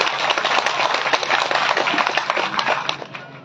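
Audience at a Shrimad Bhagwat Katha religious gathering applauding a welcomed guest: dense, steady clapping from many hands throughout, fairly loud and continuous.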